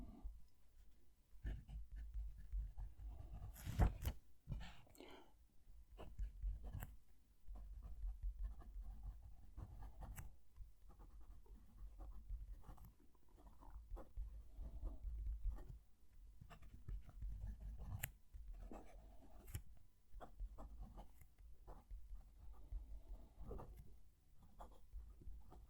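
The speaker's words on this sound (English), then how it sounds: "Let's move the mic down to the page so you can hear the pen writing." Fountain pen with a hooded nib writing on paper, heard as soft, close scratching strokes in irregular bursts with short pauses, faint against a quiet room.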